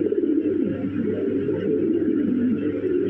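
A pair of red Lahori pigeons coos in a steady, low, rolling murmur nearby, sustained throughout with no voices.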